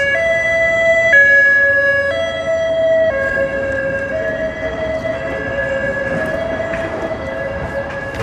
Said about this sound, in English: I kind of like this siren better than the louder and the more noxious ones.